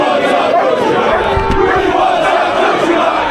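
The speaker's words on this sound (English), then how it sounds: "The crowds are massive." A large crowd of protesters roars and shouts together outdoors, a loud continuous mass of voices with a thud partway through.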